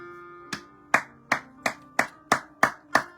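A church congregation claps in a steady rhythm, eight sharp, evenly spaced claps over a faint sustained musical tone, moderately loud with no talking.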